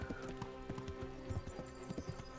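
A horse's hooves clip-clop in a quick, uneven rhythm in a medieval video game, with a tonal game-music bed underneath, faint and somewhat distant.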